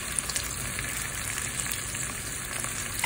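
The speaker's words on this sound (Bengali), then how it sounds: "আর এই পাশে আমি আবার প্যাঁচটা বসিয়েছি আর দিয়েছি কিছুটা বাটার।" Onion cubes fry in butter in a pan for fried rice, giving a steady, dense sizzle that holds evenly throughout without pause and with no voices.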